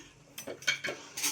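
A spoon stirs and mixes food in a cooking vessel, giving a few quiet, close metallic scrapes and clinks in an uneven rhythm over a short stretch.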